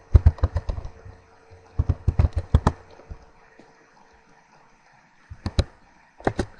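Fingers tap on a computer keyboard up close in quick bursts of keystrokes separated by short quiet pauses, with no talking.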